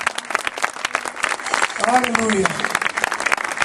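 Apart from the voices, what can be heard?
congregation applause, louder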